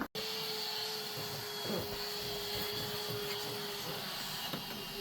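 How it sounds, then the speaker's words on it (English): A vacuum cleaner running in a kitchen while a sink strainer is replaced, a steady close whine with a constant hum, starting after a brief click at the very beginning. "Alright, and I got a vacuum actually"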